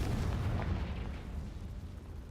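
The Confringo fire-blast spell in Hogwarts Legacy, played on Nintendo Switch, lands as a muffled booming explosion that rolls off into a low rumble over a couple of seconds.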